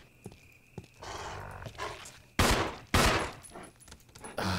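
Gunshots in the video game Resident Evil HD Remaster ring out as two loud, sharp blasts close together after a quieter stretch of scattered thuds and shuffling, with a further burst near the end.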